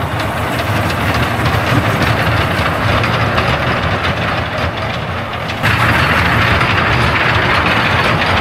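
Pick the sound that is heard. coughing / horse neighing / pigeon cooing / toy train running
toy train running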